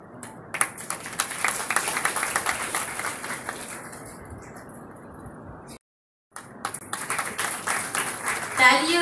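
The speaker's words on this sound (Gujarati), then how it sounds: "તાળીઓ રોકાવી ના જોઈએ" An audience at the Junagadh Agricultural University diploma polytechnic convocation gives sustained, dense applause that rises and falls, with a brief dropout to silence before the clapping resumes, and voices are heard over it.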